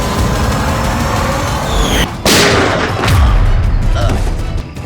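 A single sharp gunshot cracks loudly midway through a scene from a TV crime drama, cutting abruptly through a dense background of music and ambience.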